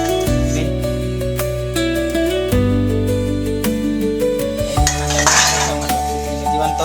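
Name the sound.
washing dishes: plates, glasses and a pot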